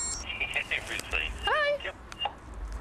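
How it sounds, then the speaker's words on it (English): A mobile phone rings with short electronic tone bursts, the repeating chirps mixed with background voices and noise. "And now it's ringing."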